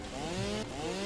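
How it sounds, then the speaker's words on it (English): Chainsaw cutting in the video game Satisfactory: a steady, buzzing motor whine that holds its pitch for about a second, close and fairly loud, with no talking. "I should try and cut him down with the chainsaw"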